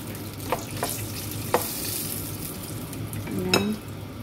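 Cashew nuts fry in hot cooking oil in a pan, giving a soft, steady sizzle broken by a few sharp clicks and scrapes from a stirring utensil, with one louder scrape near the end.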